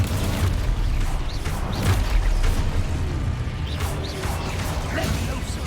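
The Confringo fire spell bursts in Hogwarts Legacy, a heavy booming explosion with crackling, whooshing debris that rolls on continuously amid other busy game sounds.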